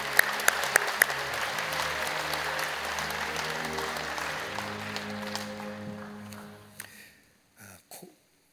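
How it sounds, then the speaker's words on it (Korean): A church congregation claps steadily in a hall, the applause gradually thinning and fading out to a few last scattered claps. "여러분 께 박수로 환영하시지요."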